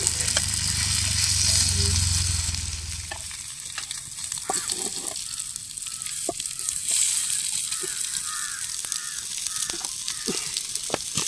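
Tilapia frying in oil outdoors on a fishing trip, a steady crackling sizzle with scattered sharp pops and stirring clatter, and a low rumble at the start.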